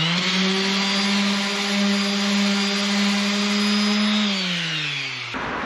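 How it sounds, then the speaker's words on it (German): A power sander working along a boat's rub rail during a refit, giving a loud, steady, high whine with a low hum that holds for about five seconds, then winds down and stops at the end. "Und da möchte ich noch den Rest abschleifen."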